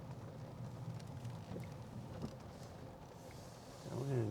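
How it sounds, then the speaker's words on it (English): Outdoors on a Sunday afternoon, rain falls steadily as a soft, continuous hiss and patter, fairly faint and even, with a few louder knocks and a brief rise near the end. "You can see all the rain."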